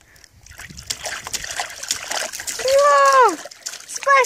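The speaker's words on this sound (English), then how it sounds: "Splash, splash, splash!" A baby splashes water in a bird bath, making light trickles and splatters close by, while an adult talks and a high voice cries out over the splashing.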